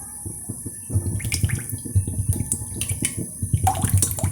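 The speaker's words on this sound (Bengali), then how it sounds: "এবার আমি বড়াটা ভাজার জন্য তেল দেব।" Rice bran oil pours into a wok (karai) to fry lentil boras, making a steady, close splashing trickle with small gurgles throughout.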